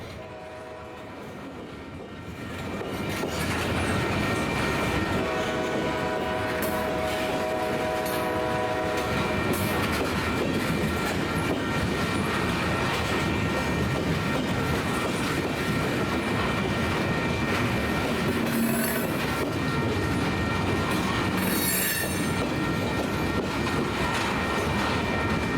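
A Cluster Railway freight train with empty gondolas rumbles past close by in Cleveland's industrial valley, steady and loud, with metallic wheel noise and high squeals rising above the continuous roar.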